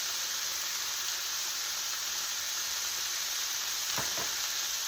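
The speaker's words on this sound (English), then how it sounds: "while this thing is frying a little bit" Brussels sprouts frying in a pan for a healthy lunch give a loud, steady sizzle and hiss throughout, with a couple of brief stirring scrapes near the end and no talk.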